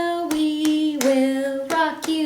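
Hands beating a pat, pat, clap rhythm during a fifth-grade music lesson, several sharp close hits spaced across a couple of seconds over a sustained musical tone.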